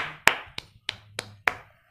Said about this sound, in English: Clap for yourself because your answers came really nice.